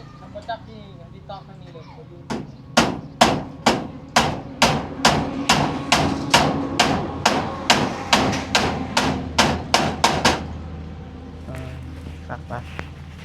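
Nails are hammered into a corrugated zinc roofing sheet, about twenty sharp metallic strikes in a fast, regular rhythm, loud and close, with faint background sounds and a few lighter taps at the end.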